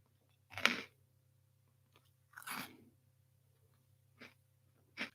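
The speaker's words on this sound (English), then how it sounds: "Crunch the chip" A tortilla chip gets crunched and chewed up close, a few sharp crisp bites spaced a second or two apart in an otherwise quiet room, with a faint low hum underneath.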